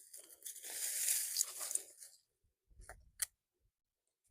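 Crisp snipping and tearing as aeonium succulent stems are cut during a garden clean-up, a dense crackle for about two seconds, then a few isolated soft crunches and thuds with pauses between.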